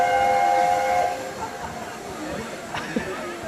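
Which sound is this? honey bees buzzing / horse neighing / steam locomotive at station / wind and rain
steam locomotive at station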